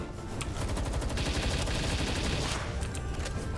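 Assault rifle fire in the video game Palworld: a dense, rapid burst of continuous shots, loud and sustained for several seconds without pause.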